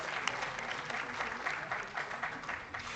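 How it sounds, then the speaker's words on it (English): Sustained audience applause at a national climate governance summit, dense steady clapping from a conference hall crowd for the speakers, moderately loud and continuous throughout. "another round of applause"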